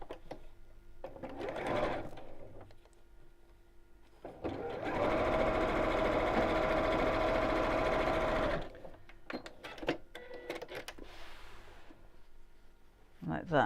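A sewing machine runs in one sustained burst of several seconds, stitching pink fabric for patchwork, close and clear, with quieter handling sounds and a voice talking before and after.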